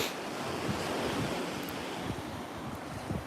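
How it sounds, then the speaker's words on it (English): Waves wash steadily along the Lake Michigan shore with a continuous broadband surf roar and some wind buffeting the microphone, with no voices. "The waves seem a lot calmer on this side."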